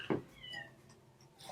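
A cat meows once, briefly and fairly close, during a tabletop roleplaying game session at home, with faint background noise around it.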